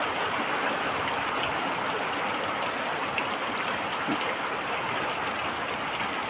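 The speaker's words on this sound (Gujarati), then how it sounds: "કલોલીએ વરસાદ ચાલુ છે." Heavy rain pours steadily over a village, a dense, even hiss with no breaks, loud and close throughout.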